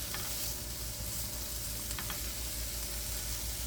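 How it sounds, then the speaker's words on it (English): Onion cooking in olive oil in a pan, a steady close sizzle and crackle that runs unbroken throughout, with a few faint stirring scrapes, no talking. "Be sure to spread it around and coat the onion with the olive oil to help it cook uniformly."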